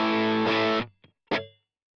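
Distorted electric guitar on a Duesenberg bridge pickup through a Line6 Helix, dry with no reverb: a sustained loud chord rings then cuts off, followed by a short muted pluck and a sharper strummed stab that decays quickly.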